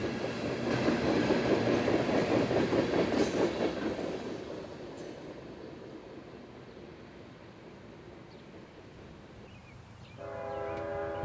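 A freight train of ethanol tank cars rolls past at Chesterton, loud rumble and clatter at first, then gradually receding to a softer rolling rumble as the last cars pass, with a horn sounding near the end.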